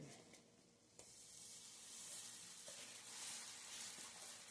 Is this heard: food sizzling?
yes